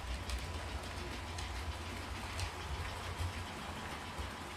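A model railway train runs on a layout with a faint, steady mechanical rumble and light rhythmic clicking, with no voices over it.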